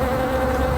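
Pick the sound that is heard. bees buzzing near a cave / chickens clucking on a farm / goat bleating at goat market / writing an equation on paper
bees buzzing near a cave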